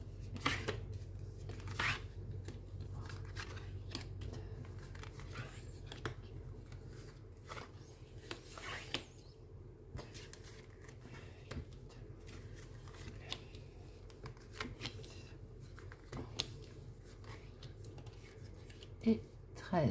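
Tarot cards are shuffled steadily by hand before thirteen are drawn, a continuous close riffling and sliding with small crisp snaps throughout.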